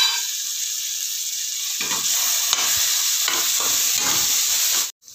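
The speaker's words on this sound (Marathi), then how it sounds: "आता ह्याच्यामध्ये टोमॅटो घालणार आहोत आपण, जे चॉप करून घेतलेलं आहे ते." Chopped tomatoes, two to three large ones, stirred and frying in a pan for pav bhaji, giving a steady close sizzle with scraping stir strokes that keeps going for about five seconds and then cuts off.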